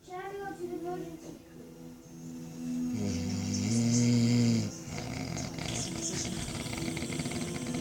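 A person snoring in a loud, rumbling burst partway through, with talk around it.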